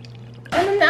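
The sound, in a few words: pouring water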